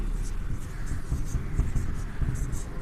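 Pen or pencil scratching out an answer by hand on paper, a continuous soft rhythmic scraping close by, with faint talking underneath.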